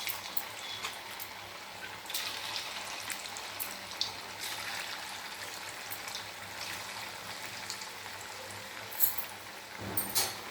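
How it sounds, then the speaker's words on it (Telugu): Rice flour fritters (appalu) sizzle and bubble in hot oil, a steady crackling hiss with scattered sharper pops, fairly quiet and with no talking. "బాగా నూనె మరిగితే ఇలా బబుల్స్ లాగా వస్తాయి మనం అప్పాలు వేసుకోగానే."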